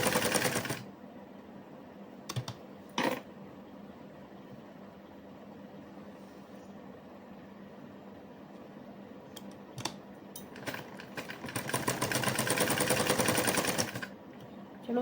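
A sewing machine runs in a village home, giving a short whirring burst at the start and a longer, steadier run of stitching near the end, with a quiet background between.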